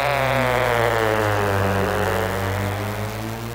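Wind-up toy plane in flight, a steady droning propeller buzz that stays loud and constant, slowly shifting in pitch as it moves.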